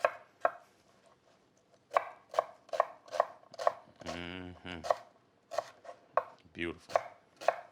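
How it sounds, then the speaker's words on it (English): A knife chops onions on a cutting board in a kitchen while making Cajun gumbo, a run of sharp, close, evenly spaced cuts with a short pause and a brief spoken word partway through. "that'll be your perfect guide to help you cut nice, straight onions"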